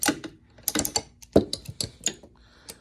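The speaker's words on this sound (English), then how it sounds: "Got a 3/8 ratchet, FL830." A Snap-on 3/8 ratchet, model FL830, clicks in close, irregular bursts of sharp metallic pawl ticks with short pauses between spins.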